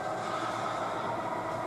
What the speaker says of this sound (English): So let's back up to this train and